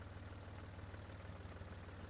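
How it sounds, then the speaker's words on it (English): A tractor engine chugs along in the farming simulator game Professional Farmer 2014, a steady low, throbbing drone with an even pulse at constant loudness. No one speaks. "Look at us chugging along."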